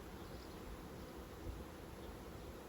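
Honey bees from a newly installed package swarm around a backyard hive, a steady low buzzing drone that fills the space evenly, close and continuous, with no talking.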